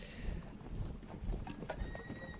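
Horses in a Thirty Years War strategy game, with galloping hoofbeats and a brief whinny over a busy battlefield bed of rumble and clatter, steady and moderately loud.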